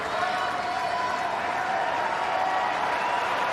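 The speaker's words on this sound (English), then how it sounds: "The crowd really involved. It's loud here in Pat Rafter Arena" A loud tennis crowd cheers and applauds in Pat Rafter Arena, Brisbane, during a United Cup match, a steady dense wash of clapping and shouts throughout.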